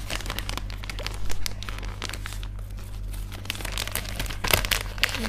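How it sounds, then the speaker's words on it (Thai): A crinkly Fisho black spicy seafood snack packet is torn and crumpled by hand, producing close, continuous crackling and rustling over a low steady background hum. "ทำไมฉันฉีกไม่ปิดเลยเนี่ย"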